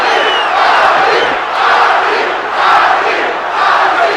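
A boxing arena crowd roars for Muhammad Ali during his bout with Larry Holmes, a loud, sustained wall of cheering and shouting that swells in waves roughly every second and a half.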